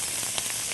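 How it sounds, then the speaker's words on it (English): Steady broadband sizzling hiss of onions, peppers and mushrooms frying in a hot pan, continuous and close, with faint crackles and no talking. "Want that sizzle"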